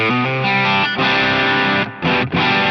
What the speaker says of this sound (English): I'll go from this like Les Paul type tone,